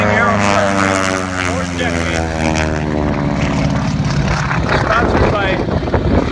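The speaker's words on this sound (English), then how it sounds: "Greg, the son, flies this aircraft." A propeller-driven warbird flies at the Space Coast Warbird Air Show, its engine droning loud and steady, with a rising then falling tone as it passes close by.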